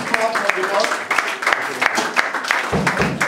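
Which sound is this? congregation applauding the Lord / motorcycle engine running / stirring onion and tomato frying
congregation applauding the Lord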